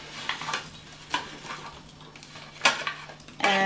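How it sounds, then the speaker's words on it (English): A spoon scooping frozen tater tots into a ceramic casserole dish, several soft scraping scoops and dull knocks, ending in a brighter clink, close and alone with no talk. "we'll start by just scooping half of the tater tots"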